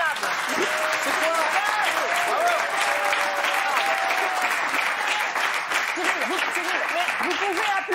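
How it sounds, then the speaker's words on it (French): Studio audience at a televised French debate about the Miss France pageant applauds steadily and loudly for the full stretch while voices keep talking underneath. "Vous pouvez applaudir, j'ai aucun problème avec ça."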